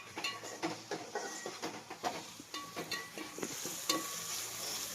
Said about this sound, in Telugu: ఈ విధంగా మొత్తం బాగా ఫ్రై అయిపోవాలా